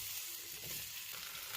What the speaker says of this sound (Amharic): ድንቹ ቀላ ብሎ እስከሚበስል በመሃል እያገላበጠን እናበስላለን